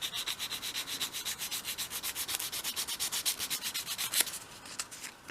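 Steady back-and-forth sanding strokes as an edge of a wooden dolls house base is bevelled at a 45-degree angle, close and even in rhythm, with a brief heavier scrape near the end and no talk.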